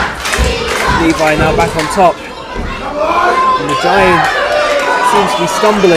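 A sold-out crowd at Witham Public Hall roars and chants during a live wrestling show, loud and continuous, with a commentator talking over the noise throughout.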